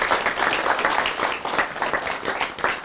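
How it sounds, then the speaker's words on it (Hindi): Studio audience applause for a woman guest on a talk show about life partner choices, a loud continuous patter of many hands clapping throughout. "तालियां मैम के लिए"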